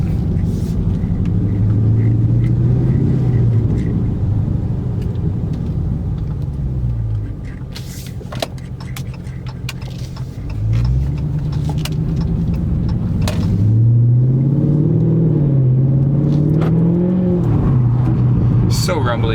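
A Dodge Charger Scat Pack with a V8 engine rumbles deeply from its exhaust while driving, the low burble rising and falling as the throttle changes, with a brief quieter lull and someone talking over it.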